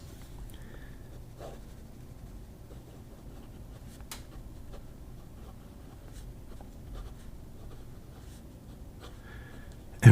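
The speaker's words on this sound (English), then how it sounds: "this medium nib is so smooth. Writes a little bit like a broad" A fountain pen with a medium Kujaku nib scratches softly across paper in continuous, faint, close strokes, with no voices.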